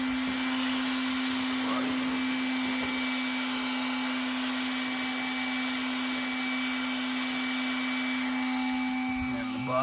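A small electric fan on an Axial SCX6 RC truck, running at 8.4 volts, gives a steady high-pitched whine with a constant tonal hum, close and unbroken.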